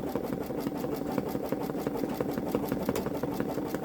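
A Babylock Solaris Vision embroidery machine stitches a butterfly onto a stretchy sweater with a steady, rapid mechanical chatter and even repeating needle strokes, close by and with no talking.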